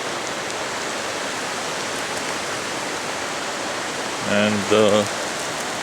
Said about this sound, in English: Here is Ivan Thomas Creek.